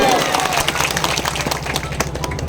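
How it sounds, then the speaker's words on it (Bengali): An audience at an Adivasi Kurmi community gathering breaks into a loud round of applause: dense, continuous clapping mixed with crowd noise and scattered voices, strongest at first and easing slightly toward the end. "এটার জন্য আদিবাসী কর্মী সমাজের পক্ষ থেকে একটা জোরে হাততালি হবে"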